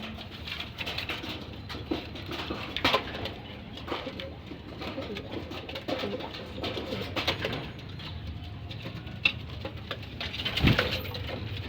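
A pigeon, apparently injured and struggling, gives soft cooing calls amid steady background noise and scattered clicks and taps, held close throughout without talk.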